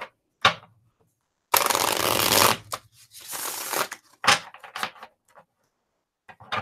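Tarot Del Fuego deck being shuffled by hand, with crisp riffling bursts of cards, one long rapid flutter followed by shorter snaps and taps, close and loud with silent gaps between.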